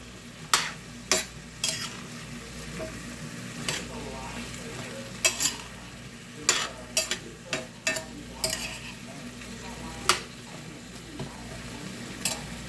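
Vegetables sizzle in a pan on a home stove while a spoon stirs them, scraping and tapping against the pan in irregular strokes over a steady frying hiss.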